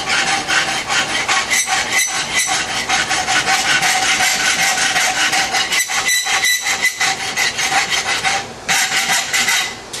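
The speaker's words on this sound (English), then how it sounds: "take your rasp and make a circle in there" Hand rasp filing the rivet boss of quarter-inch blacksmith tongs held in a vise, a steady scraping rasp running nearly continuously at close range with a few short pauses between strokes.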